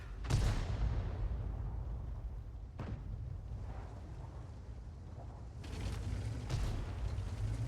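Tank gun shots and hits in World of Tanks, several sharp booming blasts, one near the start, one near the middle and two close together toward the end, over a constant low engine rumble, with no speech.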